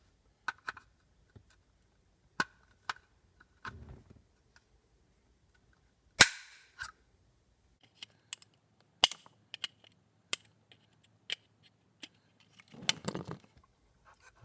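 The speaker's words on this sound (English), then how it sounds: "the center tab here will need to be cut off of the factory vent assembly" Sharp isolated snips and clicks from cutting the plastic center tab off a Tesla Model 3/Y factory vent assembly, sparse single cuts separated by near silence, with a few brief rustles of handling.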